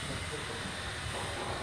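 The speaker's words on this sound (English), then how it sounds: "arriving in now is a 16:24 Arriva Trains Wales service to Holyhead" An Arriva Trains Wales service to Holyhead pulls into Shrewsbury station, a steady broadband rumble and hiss of the arriving train filling the platform, continuous and fairly loud with no clear voices.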